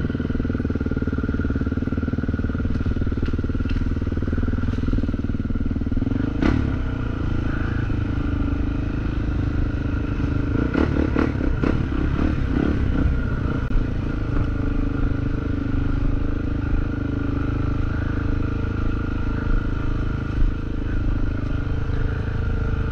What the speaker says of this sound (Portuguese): Ah, não posso desligar minha moto, daqui a pouco ela ferve.